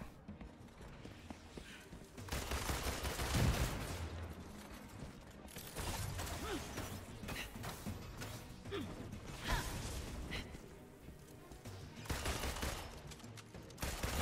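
Gunfire in the video game Marvel's Avengers comes in rapid bursts with mechanical clatter and whooshes, moderately loud against a busy game soundscape with no talking.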